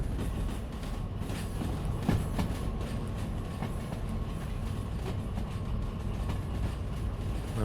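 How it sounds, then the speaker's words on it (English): A long, heavy freight train of roughly 3,000 tonnes rolls steadily past in Derail Valley, its continuous low rumble broken by rhythmic wheel clacks and faint metallic squeals, with no voices over it. "Now our train is going to go around that loop,"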